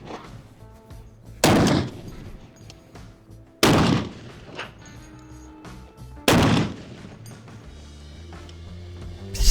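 Three loud gunshots from an AK-style rifle at a shooting range, spaced a couple of seconds apart, each a sharp close blast followed by a short echoing tail.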